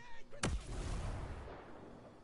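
A grenade goes off in Ghost Recon: Breakpoint as a single sharp, loud blast, followed by a long rumbling decay that fades out over a couple of seconds.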